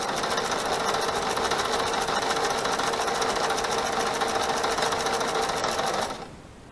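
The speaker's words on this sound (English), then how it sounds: "I'm going to sew to the corner." Sewing machine running steadily while quilting a quilt to the corner, a loud continuous rapid needle rattle close up for about six seconds before stopping abruptly, no talking.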